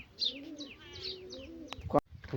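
Pigeons coo in soft repeated calls close by, mixed with brief chirps and a sharp knock near the end.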